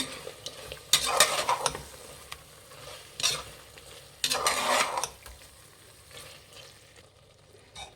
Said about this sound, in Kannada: ಒಂದೆರಡರಿಂದ ಮೂರು ಸಲ ವಾಶ್ ಮಾಡಿಬಿಟ್ಟು ಹಾಕಿ ಫ್ರೆಂಡ್ಸ್ ಮಿಕ್ಸ್ ಮಾಡಿ